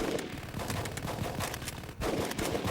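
Heavy gunfire in the combat video game Full Spectrum Warrior, a dense continuous rattle of rapid automatic shots with overlapping bursts, loud and close, with a brief dip before the firing resumes.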